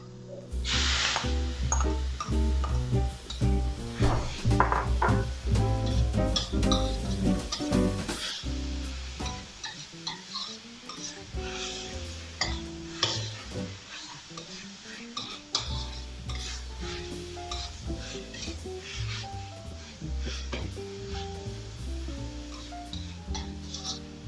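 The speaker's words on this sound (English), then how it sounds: "Now it's time to add the bacon." Bacon fries in oil with onions for a spaghetti carbonara, heard as a loud, busy sizzle with repeated scraping and stirring clatter from utensils against the pan. The sizzle eases somewhat in the latter half, and no one speaks.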